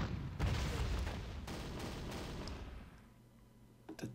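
Anti-aircraft cannon under attack in the wartime strategy game Panzer Corps, with a loud burst of gunfire and booming impacts that rumble and fade over a few seconds, followed by a faint late crack.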